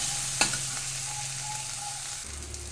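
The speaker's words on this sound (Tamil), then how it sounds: "இஞ்சி பூண்டு இதையும் இதுக்கு கூட சேர்த்து நல்லா கிண்டி வேக விடணும்" Ginger and garlic sizzling in a tomato fenugreek curry base in a pan, with a steady fry under a single sharp clank of a stirring utensil.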